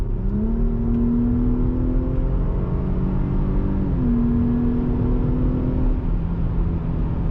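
A Jeep Grand Cherokee SUV engine revs and accelerates steadily in sport mode, its pitch climbing, dipping briefly as it shifts, then rising again; close and continuous with no talking.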